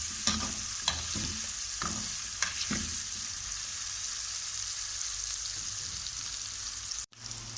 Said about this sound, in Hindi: अब इन मसालों में हम प्याज फ्राई कर लेंगे।